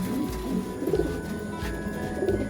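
Soft, low cooing of racing pigeons repeats in short throaty phrases against a steady background hum, with no talking.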